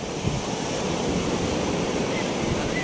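Waves wash onto the seashore on a warm, sunny day, giving a dense, continuous roar of surf mixed with wind buffeting the microphone, with no one speaking.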